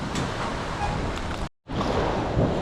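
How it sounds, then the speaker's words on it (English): Waves stirred up by holiday boat traffic crash against a lake shore by fishing docks, a loud close wash of splashing water with wind noise, broken by a brief silent gap before the surge resumes. "Everybody's here, so the waves are crashing on the shore."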